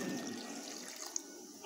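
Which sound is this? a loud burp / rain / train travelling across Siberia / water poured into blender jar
water poured into blender jar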